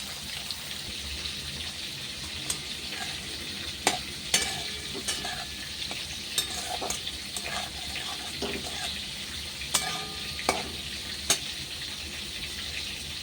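Panch phoron spices frying and being stirred in hot oil for a fish-oil dish, a steady close sizzle with scattered sharp clicks and scrapes of the spoon against the pan, with no voices.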